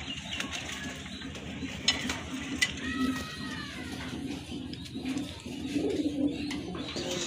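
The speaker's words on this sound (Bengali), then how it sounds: "এটা হচ্ছে আপনার সিরাজি কবুতর" Sirazi pigeons coo in low, repeated murmuring phrases amid a busy pigeon loft, with occasional faint chirps and soft rustling throughout.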